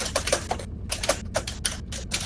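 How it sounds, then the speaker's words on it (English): Loud clacking typing on a computer keyboard that sounds like an old typewriter, rapid bursts of sharp keystrokes close up, broken by short pauses between runs. "Luby, it sounds like you have a typewriter"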